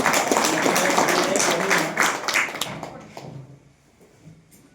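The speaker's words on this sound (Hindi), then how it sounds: "इनके लिए एक बार जोरदार आप लोग ताली बजाएं" Audience applause for a company managing director at a gathering, dense and loud for about three seconds before fading out, with voices mixed in.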